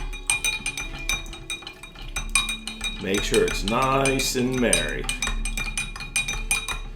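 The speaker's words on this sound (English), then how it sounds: "What you want to do is you want to go ahead and stir that in there." A spoon stirs an Old Fashioned cocktail in a glass from St. Augustine, giving a constant quick run of close, bright metallic clinks and ticks, with a person talking briefly over the middle of the stirring.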